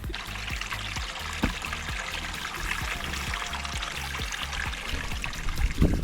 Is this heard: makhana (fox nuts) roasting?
no